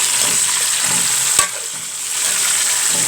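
Beef sizzling in hot ghee while being stirred, a steady bright frying hiss with a sharp scrape or clink partway through, close and without any talk.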